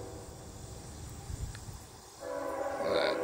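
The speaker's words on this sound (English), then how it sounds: "as the train goes by in the background" A train passes in the background with a low rumble, then a loud horn blast swells in during the second half, sounding somewhat distant behind the indoor room tone.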